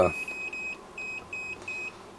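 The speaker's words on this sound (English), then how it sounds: "you can hear a beep every time we" Repeated high electronic beeps from a multimeter or oscilloscope test instrument, short steady tones in an even rhythm, fairly quiet against a faint background hum.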